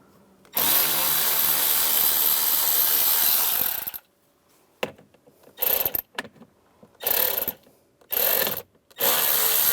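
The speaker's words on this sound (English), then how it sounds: "You want to take those out, use the same 7mm socket." A power tool with a 7mm socket runs on screws inside a Ford Explorer, 2011–2019 model years, first one long loud whir of about three seconds and then several shorter close bursts with pauses between them.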